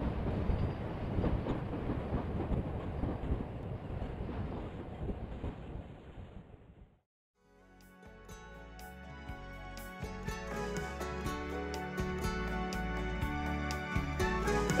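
California Zephyr passenger train with caboose number 427, built in 1955, at the rear, rumbling by with wind buffeting, then a brief hush before a louder, steady rolling clatter of cars builds.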